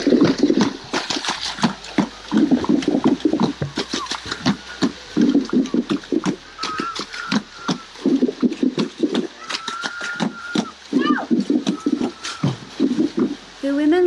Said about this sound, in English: Literally beat and pound the water to make music.